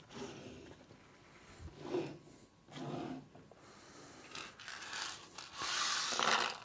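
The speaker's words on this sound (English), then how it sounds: "I'm now going to screw these into position." Drawer runners being screwed onto a Cooke & Lewis 500 three-drawer unit, heard as a few bursts of mechanical turning and scraping with short ratchety grinding, close and moderately loud, with no talking.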